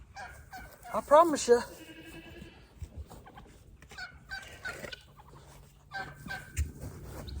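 Homestead turkeys gobble in a loud burst of sharp, rattling calls near the start, followed by scattered fowl noises while someone talks nearby.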